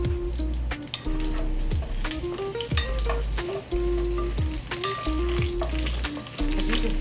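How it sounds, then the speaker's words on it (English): Turkey Swedish meatballs sear in a hot pan, giving a loud continuous sizzle with repeated scraping and stirring strokes and occasional clanks of utensil on pan, close and steady throughout. "I turned the heat up a little bit more so that I can get them like almost like a hard sear on each side"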